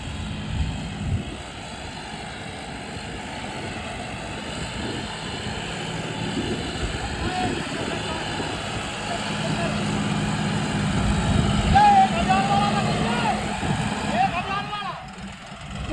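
A John Deere 5405 CRDi tractor engine runs steadily at raised speed, a constant, fairly loud drone that swells slightly toward the end, with people talking over it.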